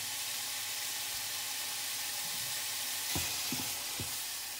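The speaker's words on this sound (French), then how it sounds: "Mélangez et faites cuire le tout pendant 3 à 4 minutes pour que la viande soit saisie." Minced meat sears in a pan with Maggi sauce, giving a steady broadband sizzle and hiss throughout, with a few soft stirring knocks near the end.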